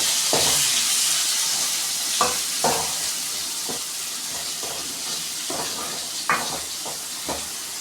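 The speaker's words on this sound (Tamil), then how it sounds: "இப்போ அடுத்தது கட் பண்ணி வச்சுருக்க தக்காளியே போட்டுக்கலாம்." Chopped tomatoes fry with softened onions in a pan for a Tamil ennai kathirikkai kuzhambu, giving a steady close sizzle broken by a series of sharp scraping stirs at uneven intervals.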